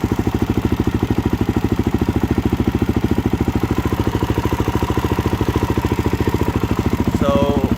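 A 2013 Suzuki DRZ400SM single-cylinder engine with a rattling cam chain runs steadily up close, thumping in a fast, even pulse with a metallic clatter layered over it.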